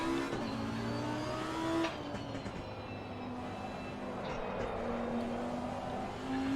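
A race car engine in Assetto Corsa Competizione runs in its highest engine mode on a hot lap, a sustained droning whine that shifts pitch once, then holds steady at moderate level.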